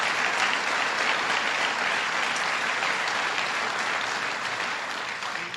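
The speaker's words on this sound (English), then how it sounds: "Give yourselves a round of applause for that fantastic" A conference audience applauds steadily, a dense, full wash of clapping that holds at even loudness and fades only slightly toward the end.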